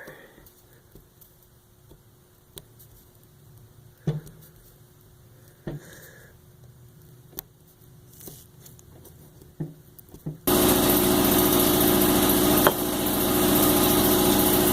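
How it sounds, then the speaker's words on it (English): An air compressor starts up in a workshop and runs loud and steady after a stretch of quiet scattered tapping and small handling noises. "nobody else is working in their shop with a friggin' air compressor running a couple feet away from them"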